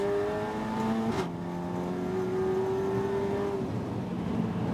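Race cars accelerate down the Bentley straight at Snetterton, with engine tones rising in pitch through gear changes and a brief passing burst, heard at a moderate distance and fairly faint.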